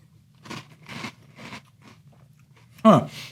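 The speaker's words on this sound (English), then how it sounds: "Good crunch, but much more of a crisp, light texture than the real bite of a cookie wafer" Oreo O's cereal in milk gets chewed with several crisp, light crunches at a steady rhythm, close to the mic, ending in one louder crunch.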